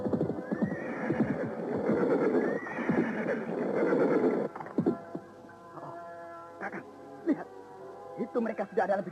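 Horses neigh and whinny loudly with hoof clatter in an outdoor scene of a mystical Indonesian drama, the neighs rising and falling over the first half before quieter scattered hoof beats and rustling follow.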